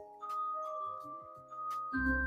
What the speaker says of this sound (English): is a little basket of glass bottles.